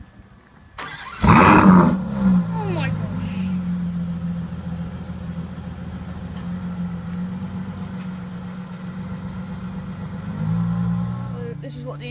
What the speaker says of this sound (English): So now you will be able to hear a start up of the car.